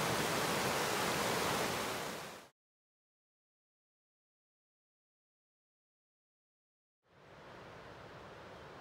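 A creek on a Mount Hood trail rushes as a loud, broad wash of water noise, cuts out to silence for several seconds, then returns somewhat softer, with no voices.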